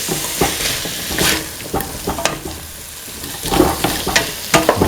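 Winter melon pieces being stirred in a hot pan, with repeated scraping strokes of a spoon over a steady sizzle of frying, close and fairly loud.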